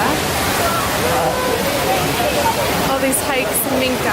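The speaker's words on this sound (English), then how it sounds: "now we hiked to another little waterfall in this area" A small waterfall on a hiking trail in the hills around Minca, Colombia, gives a steady broadband rush of falling water that runs loud throughout, with someone talking over it.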